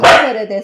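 A pet dog gives one loud, close bark that trails off, heard over a person talking.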